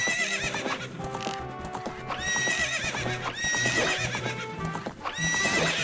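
Horse riding in the video game Ocarina of Time, with galloping hoof clip-clops under repeated loud whinnies and neighs over a musical backdrop, steady throughout.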